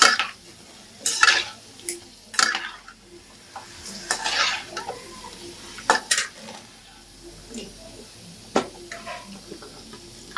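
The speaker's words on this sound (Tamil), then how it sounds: "நல்லா பொரிஞ்சு வருது. நம்ம எல்லாத்தையும் பொரிச்சு எடுத்துக்கலாம்." Pani puri dough discs fry in hot oil with a soft background sizzle, punctuated by sharp scrapes and clinks of a metal ladle stirring and lifting them from the pan.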